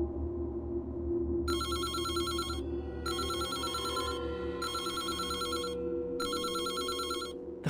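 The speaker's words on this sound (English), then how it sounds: "The phone again." A telephone bell rings in four long, loud bursts separated by short pauses, set against a steady low background hum in a haunted highway scene.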